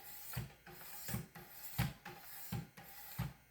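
Knife sharpened on a Wicked Edge system with 1000 grit stones: five evenly spaced stone strokes rasp across the steel, each a short gritty rub, close and clear in a quiet room.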